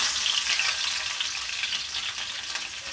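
Mustard seeds, cumin and crushed garlic sizzling in hot oil, a dense, steady hiss that stays loud and close for the whole stretch, with no talking over it.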